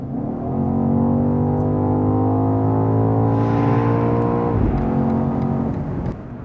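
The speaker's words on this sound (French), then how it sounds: "si on a le mode sport enclenché et qu'on met pied droit" A 2023 BMW XM hybrid SUV with 653 horsepower accelerates hard in sport mode, its engine note rising steadily and loudly, then dropping briefly at a shift before climbing again.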